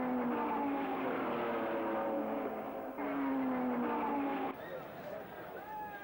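A Ferrari race car at Le Mans roars along at full speed, its engine note steady and loud under a continuous narrating voice, with a shift in pitch near the end.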